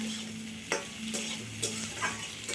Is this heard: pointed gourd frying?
yes